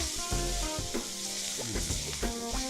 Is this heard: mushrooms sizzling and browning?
yes